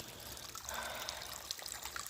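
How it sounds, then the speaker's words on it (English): Small rust-colored stream along a hiking trail, trickling and burbling close by in a soft, continuous flow with light splashes, no voices. "A nice little stream here that I'm crossing over"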